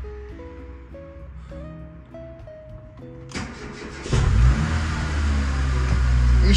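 A car engine, just repaired, is cranked by the starter for a few seconds and catches, settling into a loud, steady running roar.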